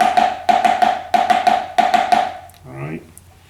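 Percussion plays a 16th-note timing pattern as quick groups of four crisp, even strikes with a pitched ring, repeating several times up close. A brief voice follows at the end.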